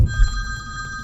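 A phone rings with an incoming client call, a steady electronic ringing tone over low rumbling background noise, brief and moderately loud.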